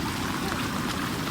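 Water rushes through a channel filled to the brim, a dense, steady close-up roar of flowing water with no break across the short stretch.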